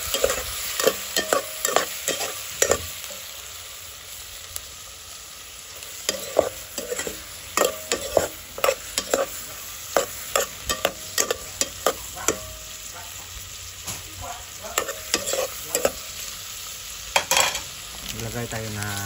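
Shrimp frying and being stirred in a pan for a Filipino ginataang tambo dish, with a steady sizzle broken by frequent sharp scrapes and clacks of the utensil against the pan, close and clear, with no talking.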